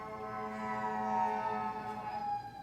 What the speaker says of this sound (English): Bless that siren.